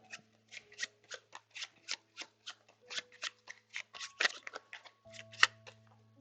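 A deck of cards for the Euphoria board game being shuffled by hand, a quick run of about twenty short papery riffs and flicks in an even rhythm, close and fairly quiet, with no talk.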